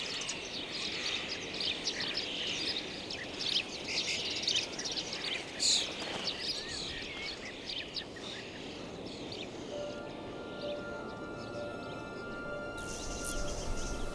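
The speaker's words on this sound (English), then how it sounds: "Sparrows and starlings have scraped out nests in the soft wall." Sparrows and starlings chirp at their nests scraped into a soft wall, steady overlapping bird calls over a constant outdoor wash.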